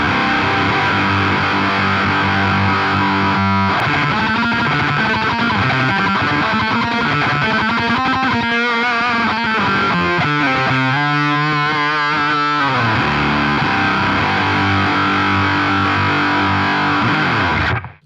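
An electric guitar runs through a TC Electronic Eyemaster distortion pedal into a Marshall Plexi amp, giving a thick, buzzing, saturated tone. Sustained chords and fast riffing play loud and continuous for around eighteen seconds.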